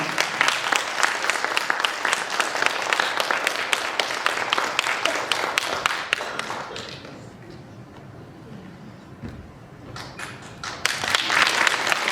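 A concert hall audience at a gala concert in Novosibirsk breaks into sustained clapping, crisp individual claps at first, then fading into a quieter lull before swelling again toward the end.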